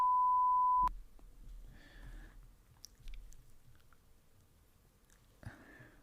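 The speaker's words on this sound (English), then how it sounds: "if I press this button here, which is the beep button" A single steady electronic beep from a device's beep button, loud and alone, lasting just under a second at the start, followed by quiet room noise with faint chewing-like rustles.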